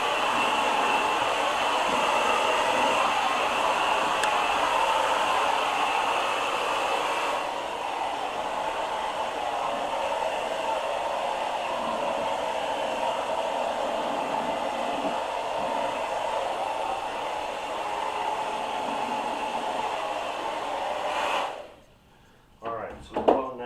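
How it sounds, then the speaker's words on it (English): A blow dryer set to cool blows air across wet poured paint, a steady loud whooshing drone that runs for about twenty seconds before cutting off, followed by a few faint handling knocks. "we are going to take the blow dryer and put it on your cool setting"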